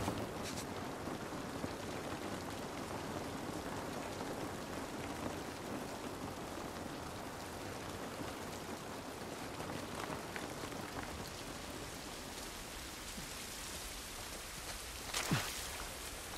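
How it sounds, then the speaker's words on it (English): Steady rain in the video game The Last of Us Part 1, falling and pattering on surfaces, a soft continuous hiss with occasional louder drips and a faint distant rumble. "This rain ain't gonna do us any good."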